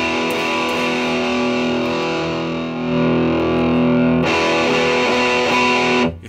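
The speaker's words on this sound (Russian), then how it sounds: "И в принципе имеет сам по себе неплохой дисторшн." An electric guitar plays through a BOSS guitar processor's distortion setting, a thick, sustained distorted chord ringing loud and alone, swelling and then cutting off abruptly at the end.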